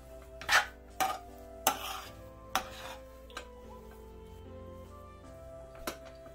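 Potato bonda filling being mixed with chopped coriander leaves in a pan, heard as a few sharp spoon scrapes and clanks against the metal early on, then softer stirring fading out, with no talking.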